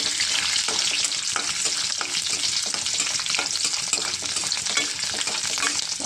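Shrimp and chopped coconut fry in a pan with a steady bright sizzle and crackle, stirred now and then, close and continuous with no talk.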